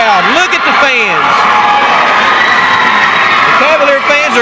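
Cavalier fans roar and whoop at a 2004 high school district tournament basketball game between Jenkins and Whitesburg, a loud, dense crowd din filling the clip, with shrill rising shouts at the start and end.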